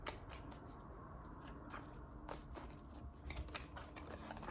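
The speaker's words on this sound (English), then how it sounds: "And yes, I shuffle a little bit differently." Tarot cards being shuffled by hand during a reading, giving a steady papery riffling and soft crunchy rustle with brief brighter flicks, close and continuous with no talking.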